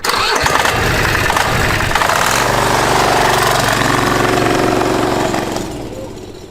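A go-kart fitted with a Chinese diesel V-twin engine roars loudly through a burnout, a dense rumbling drone with a steady pitch that holds for several seconds before easing off near the end.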